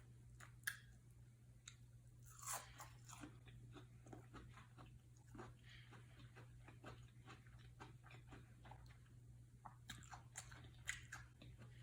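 Close, crisp crunching bites and chewing of battered red pepper tempura, fried Japanese-style vegetables, in a steady series of sharp crackles with a low steady hum underneath and no talking.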